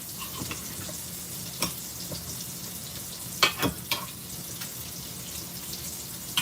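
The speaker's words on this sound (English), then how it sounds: "I'm gonna stir this around." Greek meatballs and potatoes are stirred in a pan, making a soft, low sizzle with scattered scrapes and a couple of louder knocks partway through, with no voices.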